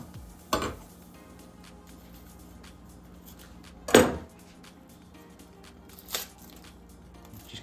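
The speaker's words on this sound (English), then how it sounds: "we're just gonna take our onion, we're just gonna cut off the ends" A knife slices the ends off an onion on a cutting board, giving two sharp chopping knocks a few seconds apart and a fainter third, each short and close in an otherwise quiet kitchen.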